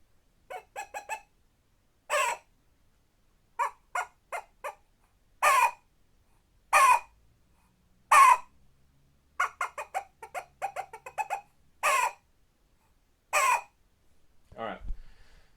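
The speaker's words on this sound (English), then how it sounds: "So that is your standard squirrel bark." A squirrel barks alone in sharp, raspy calls, repeated in short bursts with brief pauses between, fairly close and clear, its standard bark.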